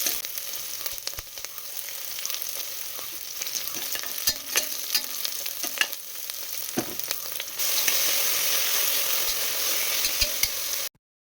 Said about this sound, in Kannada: ನೀರುಳ್ಳಿ ಚೆನ್ನಾಗಿ ಫ್ರೈ ಆದಮೇಲೆ ಸ್ವಲ್ಪ ಬೇವಿನ ಸೊಪ್ಪು ಹಾಗೆಯೇ ಟೊಮೆಟೊನ ಸೇರಿಸ್ಕೊಂಡು ಅದನ್ನು ಕೂಡ ಫ್ರೈ ಮಾಡ್ಕೊಳ್ತೀನಿ